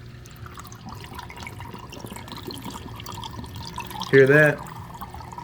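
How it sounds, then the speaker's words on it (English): Water trickling and dripping steadily in a DIY 20 gallon aquarium sump, with a brief louder gurgling gulp near the end as water guzzles down the pipe. Someone speaks briefly over it. "it's guzzling water down that pipe there"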